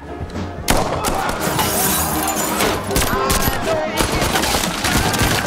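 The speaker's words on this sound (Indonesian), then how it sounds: "tiba-tiba beberapa anak buah Dukovic muncul dan menembaki Kincaid" Dense gunfire erupts in a film action scene as henchmen open fire on a man, with rapid loud bursts, shattering impacts and thuds packed together over several seconds, mixed with voices.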